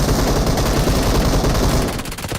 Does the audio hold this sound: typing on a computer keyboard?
no